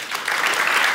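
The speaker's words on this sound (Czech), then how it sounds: "Dámy a pánové, váš potlesk patří panu profesoru Jiřímu Beranovi, ale také Karlu Drbalovi" Audience applause at a freedom of speech award ceremony, a brief burst of dense, steady clapping that swells slightly and holds loud throughout.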